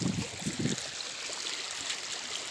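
The Koel river flows in the rain with a steady, close rushing wash of water, and a few soft low thumps in the first second.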